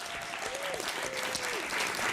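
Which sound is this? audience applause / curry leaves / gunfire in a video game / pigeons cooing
audience applause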